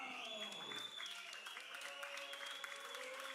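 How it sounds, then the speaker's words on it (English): A wrestling crowd applauds and cheers KC Navarro's entrance in a steady, distant wash of clapping, with a ring announcer's voice and entrance music running over it. "Probably the biggest applause we've heard tonight for Casey Navarro."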